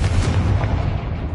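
Confringo blasting spell in Hogwarts Legacy, a short, heavy, booming explosion with dense low rumble, loud and close throughout the brief moment.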